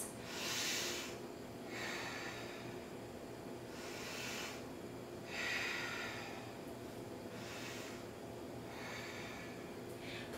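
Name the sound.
breathing during yoga pose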